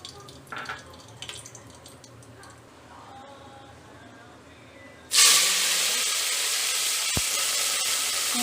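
Cinnamon and cloves drop into hot ghee in a pressure cooker while making chicken pulao. Quiet kitchen background gives way to a sudden loud, steady sizzle and hiss that lasts to the end.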